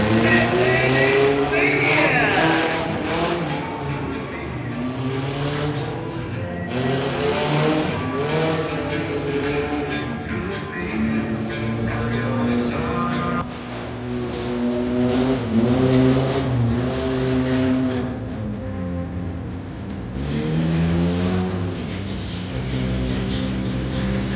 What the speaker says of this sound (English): These are 1/3 scale monster trucks.